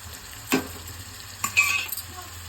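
Ginger-garlic paste and spices such as chili powder, salt, coriander powder and coconut powder fry in a pan, with a steady sizzle broken by two sharp scraping stirs of a spoon against the metal.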